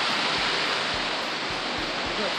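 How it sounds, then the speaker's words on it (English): Waterfall near a small cave with ice still inside, steady full rushing water filling the scene evenly and close by, with a few faint low thumps and no talk. "look at this pretty waterfall"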